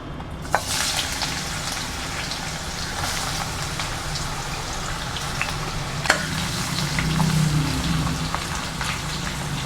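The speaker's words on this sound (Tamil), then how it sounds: "இப்போ நம்ம பீர்க்கங்காய் தோலை போட்டுக்கலாங்க." Ridge gourd peel frying in a pan for chutney gives a steady, close sizzle and crackle that runs unbroken throughout, with occasional sharper pops and a soft stirring scrape partway through.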